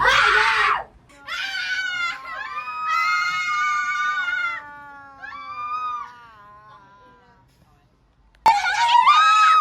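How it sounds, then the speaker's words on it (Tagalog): A group of children on a field trip shout together in loud, high-pitched bursts. The shouting rises and falls across several drawn-out calls, drops to a near-silent pause, then erupts again at the end. "Sigaw natin ang lahat ng mga bata."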